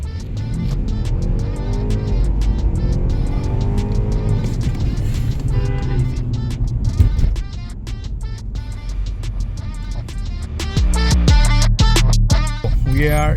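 A Toyota Crown RS in sport mode pulls away from a standstill, its engine rising steadily and loud, then settling and surging again near the end.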